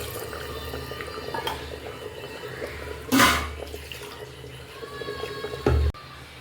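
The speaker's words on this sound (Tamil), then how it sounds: "நாலு டம்ளர் தண்ணி இதில் நான் ஊற்ற போகிறேங்க" Four tumblers of water poured into a cooking pot in a couple of short splashing gushes, with faint clinks and drips in an otherwise quiet room.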